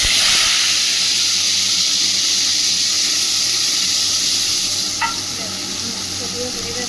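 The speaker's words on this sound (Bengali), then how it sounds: "এবার আমি মশলা যেটা পেস্ট করে রেখে দিয়েছিলাম সেই মশলাটা আমি এবার দিয়ে দেব।" Spice paste hits a hot pan with cumin while mushrooms cook, giving a loud, steady sizzle and hiss with stirring throughout, settling slightly quieter near the end.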